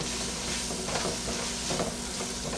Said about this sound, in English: Let this cook, get those vegetables just a little tender.